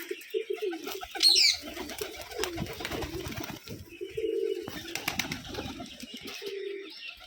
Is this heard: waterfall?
no